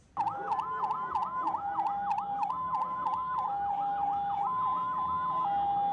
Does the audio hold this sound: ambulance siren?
yes